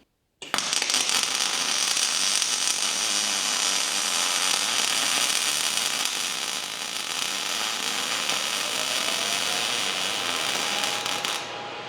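A welder tacking nuts onto a farm implement gives a loud, steady crackling buzz that runs unbroken for about eleven seconds after a sudden start, close up and with no voices over it.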